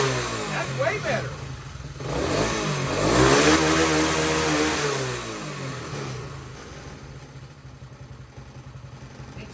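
A motorcycle engine, warmed up, revs up and falls back while a person talks over it, the engine close and fairly loud, then settling to a rougher idle.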